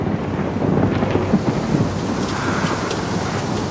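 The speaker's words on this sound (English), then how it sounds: "a huge storm brewed up." Thunderstorm rumbling over Doubtless Bay in the far north in 1769: steady low roar of rain and wind with a heavy rumble building through the first half, loud and continuous with no voices.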